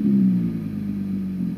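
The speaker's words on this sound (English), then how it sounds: "So I'm going to give it a rev." A car engine runs close by during a live-data check of the oxygen sensor. It gives a low, steady drone, rising slightly and then settling back at a slightly lower, even level with no talk over it.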